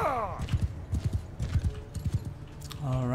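Cavalry horses charge in a Mount & Blade 2 Bannerlord battle: loud, rhythmic hoofbeats pound throughout, bracketed by horse whinnies at the start and end, with a voice calling out.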